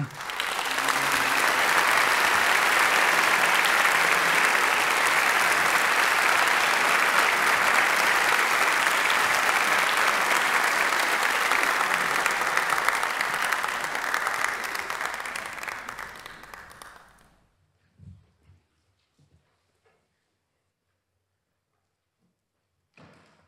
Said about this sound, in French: Applaudissons Ailton Krenak.